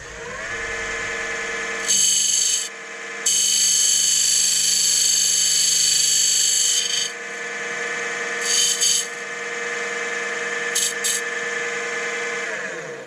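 Old Axminster Craft Supplies woodturning gouge cutting a wooden Viking drinking cup on a lathe, a steady loud machine whir with bright hissing cuts that start and stop in several bursts, heard close with no speech.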